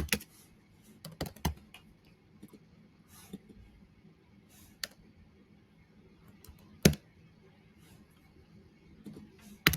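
Irregular keyboard typing, scattered clicks and short bursts of keystrokes at close range in a quiet room, with no talking.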